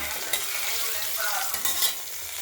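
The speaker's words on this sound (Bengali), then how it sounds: "তেজপাতা তেজপাতা লঙ্কা জিরে ফোড়ন দিলাম" Bay leaf, dried chili and cumin seeds tempering in hot oil for a spinach and mixed vegetable curry, with a steady, close crackling sizzle that runs on its own without a break.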